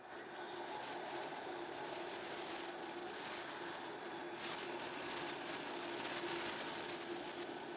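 A machine cuts out valve guides in a Cummins 12-valve cylinder head, giving a thin, high, steady whine that shifts pitch partway through over a low hum of shop machinery.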